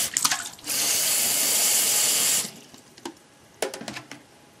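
A bathroom sink fills with fresh water from the tap while makeup brushes are being cleaned, a strong, steady gushing stream for nearly two seconds, bracketed by short splashes and drips before and after.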